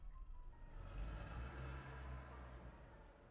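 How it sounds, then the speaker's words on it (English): A car engine starts and idles in a convenience store video game at night, a steady low rumble with a faint higher whine, fairly loud and continuous with no talking. "it's him getting into his car."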